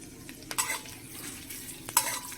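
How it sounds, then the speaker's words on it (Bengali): Chopped garlic, ginger and green chilli frying in refined oil in a pan, a steady soft sizzle with two sharper bursts of stirring or utensil scrapes, close by with no talk. "এর মধ্যে আমি রসুন কুচি আর কিছুটা আদা কুচি একটু ফ্রাই করে নেব"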